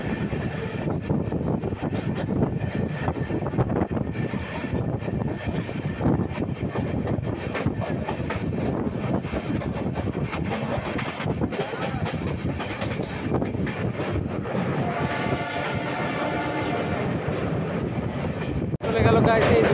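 A crowded local train rolls past on the tracks near Kolkata, a continuous loud rumble and clatter of wheels with a brief metallic squeal late in the pass.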